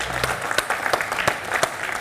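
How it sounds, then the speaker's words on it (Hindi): Studio audience on a Hindi television game show claps loudly, a dense burst of applause with sharp individual claps standing out, close and continuous for the whole stretch. "जोरदार तालियां।"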